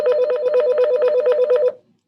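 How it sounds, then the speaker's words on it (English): A science office desk phone rings in a rapid electronic trill, a steady string of close, loud pulses for under two seconds that then stops dead, with no talk over it. "This phone never rings."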